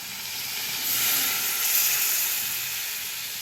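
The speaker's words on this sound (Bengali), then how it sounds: "কষা হয়ে গিয়েছে, এবার আমি জল ঢেলে দেব" Water goes into a hot kadai of ghugni masala made with fresh green peas, giving a steady loud hissing sizzle that swells briefly and then settles into a constant steamy fizz.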